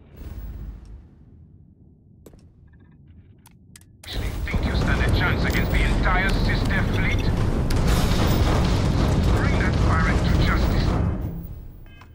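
A spaceship in Starfield hyperjumps away: after a few seconds of quiet hum, a loud roaring whoosh bursts in and holds as a dense, powerful rumble for about seven seconds before fading out.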